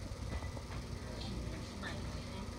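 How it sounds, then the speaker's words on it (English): A train rolls along the rails during trackside railfanning in Chatham, a steady low rumble with continuous broadband noise, fairly loud and unbroken throughout. "The train's moving."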